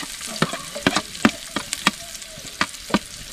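Chopped onion fries in oil in a pan on a wood-fired stove, giving a steady sizzle broken by about a dozen sharp clacks of a spoon stirring against the pan.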